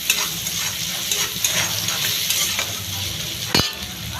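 Onion stirring and frying in a pan, a steady close sizzle with scraping strokes of a spoon at a slow rhythm and a sharp clatter near the end.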